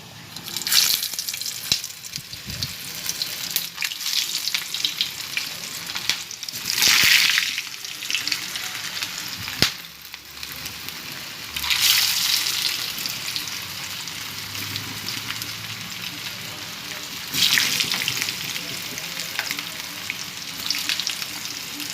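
Chicken cutlets fry in hot oil in a frying pan, giving a steady sizzle that swells in louder bursts now and then, close and moderately quiet with no talk over it.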